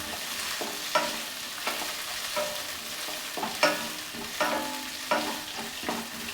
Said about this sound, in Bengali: একটু নাড়াচাড়া করব ড্রাই ফ্রুটগুলোকে গরম মশলার সঙ্গে ভালোভাবে